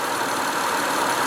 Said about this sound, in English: then you turn on the working car